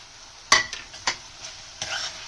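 Chopped boiled tomatoes tipped into a sizzling pan of spiced egg bhurji, giving a few sharp scraping stirs and brief bursts of frying that flare and fade, close and fairly quiet.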